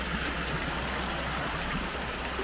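Água Branca waterfall on Ilhabela pours in a steady, loud, broadband rush with no voices, constant and unbroken throughout.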